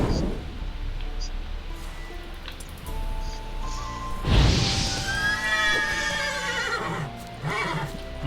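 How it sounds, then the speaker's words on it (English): Roach, a horse spooked by a ghost in The Witcher 3 video game, lets out a loud whinny midway through, over a rainy outdoor ambience with faint hoof sounds. "Spooking my horse."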